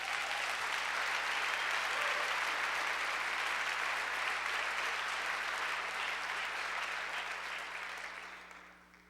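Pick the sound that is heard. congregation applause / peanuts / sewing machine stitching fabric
congregation applause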